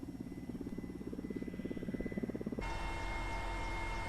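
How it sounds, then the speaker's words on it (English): A warlord's helicopter flying in northern Afghanistan, its rotor giving a steady rhythmic chop that builds slightly before giving way to a constant loud engine drone, close and continuous. "We flew there in a warlord's helicopter."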